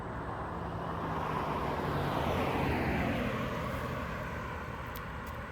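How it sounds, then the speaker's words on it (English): A car passes by outdoors, a steady broad rushing swell that builds toward the middle and eases off, loud and continuous with no talking over it. "I'm gonna pause for the car so you can hear me."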